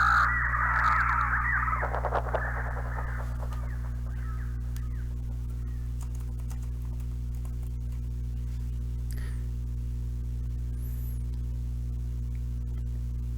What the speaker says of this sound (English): the sound of birds making a clamor echoed from somewhere